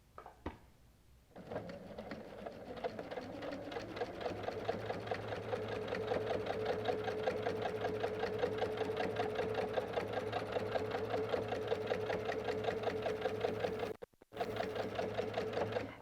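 A sewing machine quilts wavy lines along a quilt border, out into batting and backing. It starts after a brief pause and runs as a steady, close, rhythmic whirr, with a short stop near the end before resuming.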